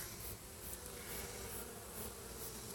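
Bees buzz all around, a dense steady drone of many insects close by, filling the air without pause and with no voices.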